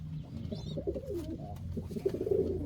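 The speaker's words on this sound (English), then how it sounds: "This pigeon is so beautiful." Low, soft cooing from an Indian Fantail pigeon in a loft, a steady murmuring coo running through the whole stretch at moderate level with faint higher chirps early on.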